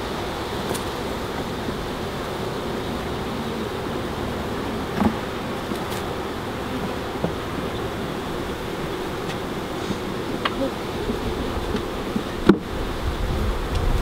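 Honey bees at an opened beehive, with newly introduced queen, make a faint, steady, continuous buzz throughout, with a few small clicks and knocks but no talk.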